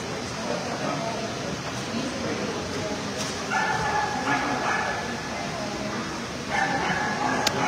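At a breed specialty dog show, dogs bark, yip and whimper in short bursts over a busy background of people talking and crowd noise.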